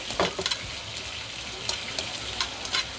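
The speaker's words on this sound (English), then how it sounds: "we're getting a nice sear on that chicken now" Chicken sears in a pan at a Japanese rice-bowl stall in Phuket's Chilva Market, a constant close sizzle punctuated by quick clinks and scrapes of a utensil against the pan.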